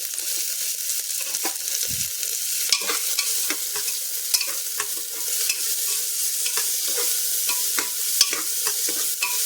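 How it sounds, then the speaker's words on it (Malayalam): Onion and green chillies fry in a pan, with a constant sizzle and frequent scraping stirs from a spoon, close and fairly loud, with no talking. "അതിനുശേഷം നമ്മുടെ സവാള ഇട്ട് കൊടുക്കാം സവാളയും പച്ചമുളകും"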